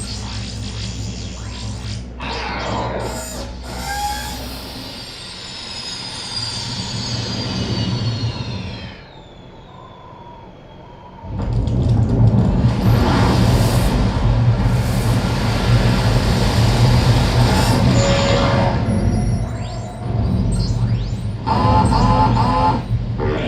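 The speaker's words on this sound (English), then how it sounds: "I've added some hovering, ambience, engines" Hovering, ambience and engine sound effects layered for a Sonic the Hedgehog 1996 OVA redub: a loud mechanical engine drone with sweeping, rising whines, a brief quieter dip midway, then a heavier roar returning for the rest.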